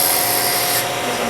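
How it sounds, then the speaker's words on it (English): Carving tool scraping along a handmade ring, a short continuous rasping rub close to the listener. "I can actually use the side to scrape just a little bit"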